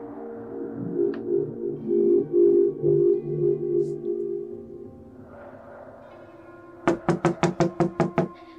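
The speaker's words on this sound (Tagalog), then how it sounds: "Pagkatapos marinig ang sunod-sunod na katoka sa labas ng kanilang pintuan." Quick series of about eight sharp knocks on a house's front door, loud and close, following a stretch of low music or murmur before the knocking starts.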